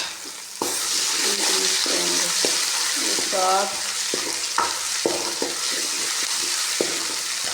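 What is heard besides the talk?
onions, ginger and garlic paste frying in a pan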